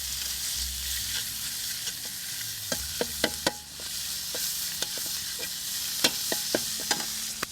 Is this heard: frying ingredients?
yes